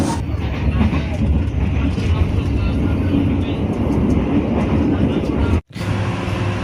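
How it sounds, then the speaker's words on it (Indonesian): The KA Progo passenger train runs from Jakarta to Yogyakarta, a loud, continuous interior rumble and rattle of the moving carriages with a brief dropout near the end, and no speech heard. "Mari saja menikmati perjalanan KA Progo dari Jakarta sampai Yogyakarta"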